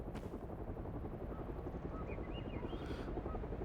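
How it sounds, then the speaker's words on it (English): Helicopters pass overhead in the game Hell is Us, a steady low rotor drone that holds at a constant level for the whole stretch, with no talk. "Oh, there's a couple of helicopters."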